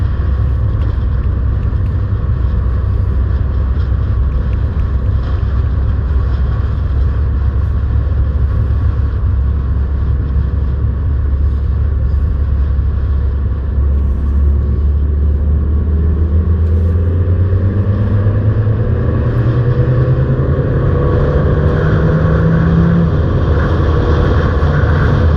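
A Peugeot 308 GT SW accelerates uphill out of a corner at Brands Hatch, its engine drone rising steadily in pitch over a constant loud road and wind rumble heard from inside the car.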